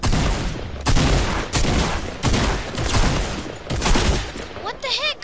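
Rapid gunfire rattles through a multiplayer shooter match in bursts and single cracks, loud and close, with a brief rising electronic chirp at the very end.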